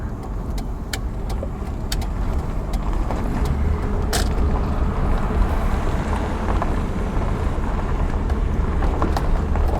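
Land Rover with no power steering driving along a road, a steady engine and road rumble with wind buffeting and a few faint clicks, no talking.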